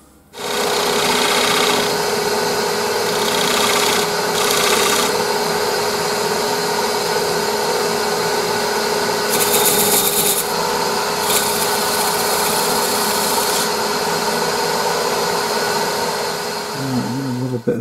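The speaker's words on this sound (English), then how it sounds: "Another bit of sandpaper over it." Sandpaper is held against a turned cherry wood urn spinning on a lathe, making a loud, steady whir with a rasping, rubbing texture throughout, with no talk.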